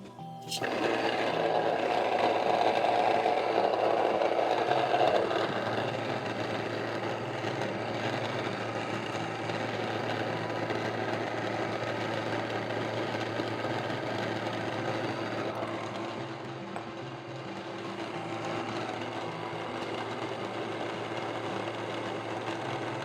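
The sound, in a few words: grain mill milling flour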